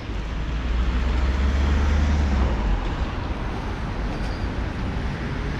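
Street traffic rumbles at a city intersection blocked by an old tram, a dense low drone of engines and road noise, steady and fairly loud, with no voices.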